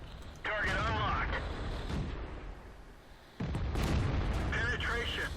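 Tank destroyer gun in World of Tanks firing, two heavy booming shots with rumbling decay, separated by a few seconds, while a voice speaks over the action.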